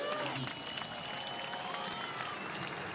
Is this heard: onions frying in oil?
no